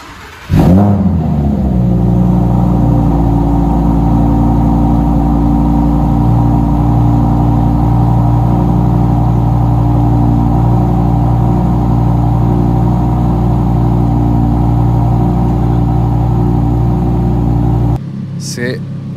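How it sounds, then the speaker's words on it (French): A 2023 Audi R8 GT's naturally aspirated V10 fires up with a sharp rev, then settles into a loud, steady, deep idle rumble close by for most of the clip before cutting off near the end. "Allez, je vous propose de démarrer ce mythique V10."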